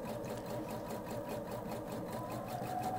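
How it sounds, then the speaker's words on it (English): A quiet sewing machine running steadily while stitching fabric, a rapid, even mechanical whir with a regular pulsing rhythm, close and continuous with no talking. "recording from the sounds of the sewing machine"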